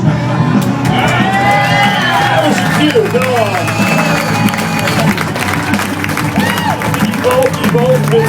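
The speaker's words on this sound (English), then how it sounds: "let's give him an applause." Crowd applause with cheers and whoops for sound engineer Big Mick Hughes at the Orion Music & More MetClub Q&A, a steady loud wash of clapping and shouts under close speech that runs throughout.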